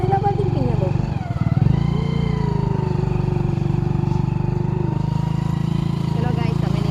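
Motorcycle riding along a village road, the engine's steady close drone and rumble continuing throughout while people talk on board.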